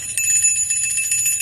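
A Salvation Army bell ringer's handheld bell rings steadily and close, bright metallic strikes repeating in a continuous jangling rhythm with no voices.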